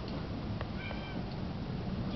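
A kitten gives a short meow over steady background noise, faint and brief, with no talking.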